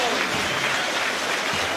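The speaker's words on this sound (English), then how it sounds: "Former Altrincham player receives a great round of applause." A football crowd applauds a substitute at the Setanta Shield final between Aldershot Town and Rushden & Diamonds, a dense, continuous round of clapping filling the whole stretch.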